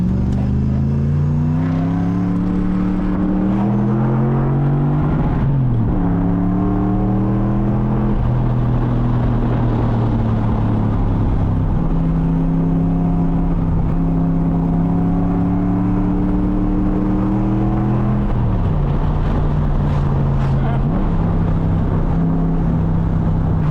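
A V8-swapped BMW E36 accelerates hard while driving, its engine loud and close, the pitch climbing steadily through the gears with brief dips at the shifts, heard from inside over constant road roar.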